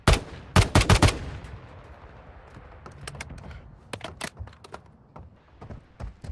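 Warzone Mobile gunfire opens with a loud burst of rapid shots, then sparser single cracks and short bursts go off at varying distances.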